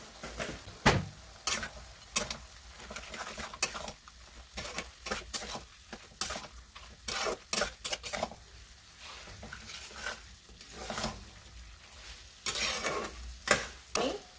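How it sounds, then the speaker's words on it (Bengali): Mutton stirred in a karai with turmeric and chili powder, quiet sizzling broken by repeated sharp scrapes and knocks of a spoon against the pan, uneven in rhythm and fairly close. "নাড়াচাড়া করে দিয়েছি, এবার ঢেকে দেব"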